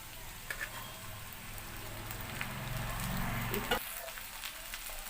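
Okra tossed into a pan of fried onions for dhaba-style bhindi fry crackles with a steady, close, broadband sizzle that swells midway, then cuts down briefly as stirring continues.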